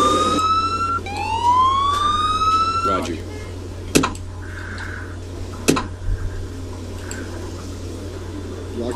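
An ambulance siren in the Emergency 4 game with the Los Angeles mod: rising electronic wails sweep upward through the first three seconds, loud and close, then give way to scattered clicks and sharp knocks over a steady low hum.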